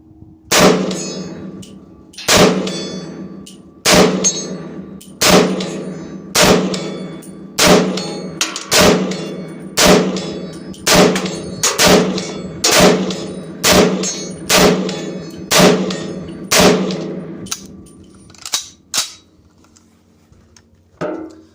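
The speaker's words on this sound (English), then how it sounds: "we're at 100 yards right now, right? And we're shooting at steel targets down here" Steady series of about fifteen sharp M1 carbine shots, each followed by a ringing clang from steel targets 100 yards downrange, evenly paced at roughly one per second, loud and close with no talk.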